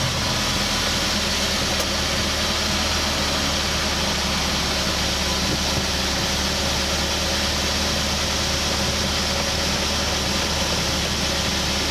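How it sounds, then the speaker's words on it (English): A Volkswagen Tiguan's engine idles steadily in a garage, a constant mid-pitched hum with broadband hiss holding unchanged for the whole stretch, with no voices over it. "let me turn the vehicle on and pump my brake"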